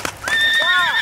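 A horse whinnies loudly and close by at a horse fair in Skaryszew, a short rising-then-falling neigh with faint hoof sounds at the start.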